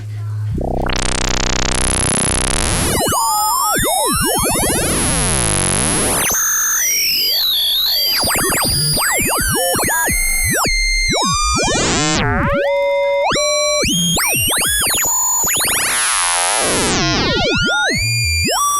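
A loud synthesizer tone sweeping and warping through bright, shifting metallic timbres, with gliding pitches and clangorous frequency-modulated textures throughout.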